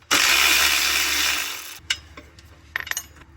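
A power tool spins off a 14 mm nut and bolt on a Subaru WRX during a turbo install, a loud steady whir for about a second and a half, then it cuts out, followed by a few light metallic clicks and taps.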